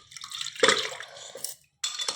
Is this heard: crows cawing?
no